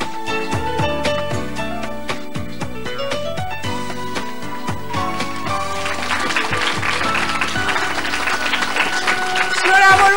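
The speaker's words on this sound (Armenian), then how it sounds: "ջերմ ծափահարությունները ստանում ընկերներից կողմից" Friends give warm applause for the singer, a dense, steady patter of clapping over music and voices that swells louder toward the end.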